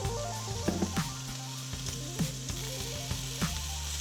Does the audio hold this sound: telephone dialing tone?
no